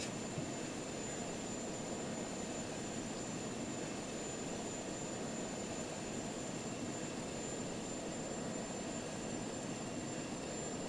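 An aircraft in Just Cause 2 climbs straight up with a steady, even jet engine drone and a faint high whine, continuous and unchanging throughout.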